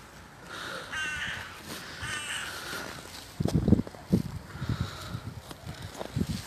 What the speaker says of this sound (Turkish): İşte gördüğünüz gibi bir karga nasibini arıyor.